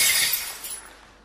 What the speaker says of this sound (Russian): Ты что, мамину вазу разбил?